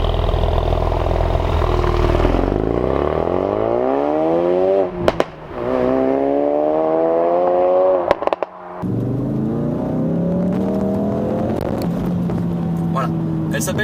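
The turbocharged four-cylinder engine of a 350-horsepower Ford Focus RS is heard close up. It revs and drops repeatedly with rising and falling tones, briefly cuts out, then settles into a steady idle, while a person talks over it.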